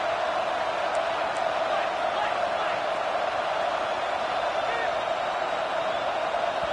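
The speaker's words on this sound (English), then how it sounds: "This crowd is trying to inspire this defense to make a big red zone stop." Steady stadium crowd roar in a college football video game, Tulsa versus Purdue, building as fans urge the defense on for a red zone stop; a continuous, dense wash of noise with scattered whoops throughout.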